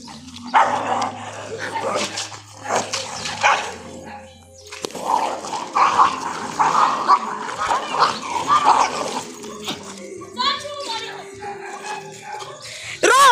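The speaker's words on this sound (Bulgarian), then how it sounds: "Две тия кучета ще се бият." Two dogs, Bobi and Rocky, set against each other in a training session, with repeated close barking and yelping bursts amid scuffling; a person talks and shouts over them throughout.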